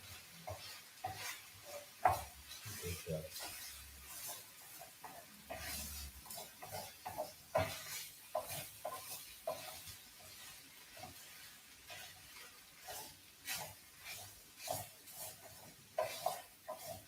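A utensil stirs and scrapes food frying in a pan, with irregular soft scrapes and clinks over a faint steady sizzle, fairly quiet and close, with no talking.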